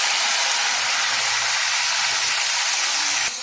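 Tomato pieces frying in hot oil with mustard seeds, cumin, green chillies and curry leaves give a loud, steady sizzling hiss that carries on without a break and with no voices.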